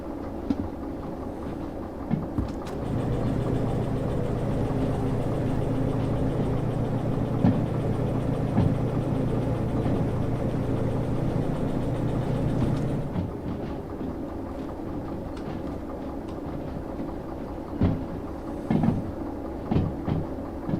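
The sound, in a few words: diesel locomotive engine running in video game Derail Valley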